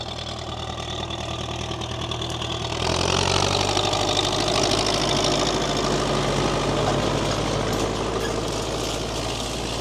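A 42-year-old MTZ-80 tractor engine idles steadily nearby, a loud low diesel rumble with a knocking beat that grows slightly louder after about three seconds and then holds even to the end, with no talking.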